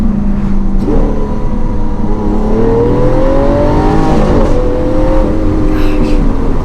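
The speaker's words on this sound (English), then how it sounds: "In between gear shifts, you kind of hear like a snap, like it's banging the gear." A Lamborghini Aventador LP700-4 Pirelli Edition engine pulls hard and loud from the cabin, its rising whine climbing through several gears with brief drops and sharp snaps at each shift, continuous and close throughout.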